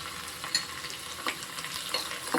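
Onions sizzle and crackle steadily in hot oil for a dried fish curry, a constant hiss with occasional pops and stirring scrapes, close up and fairly quiet.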